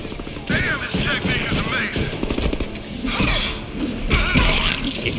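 Rapid bursts of gunfire in a Deadpool video game, crackling volleys that come and go over several seconds, mixed with game effects and excited talk over the top.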